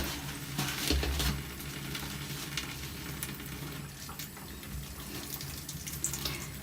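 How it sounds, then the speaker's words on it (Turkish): Dishes and kitchenware rinsed under a running tap, a continuous moderate gush of water with small splashes and clinks, close and steady. "Güzelce durla. Hiç köpük kalmasın."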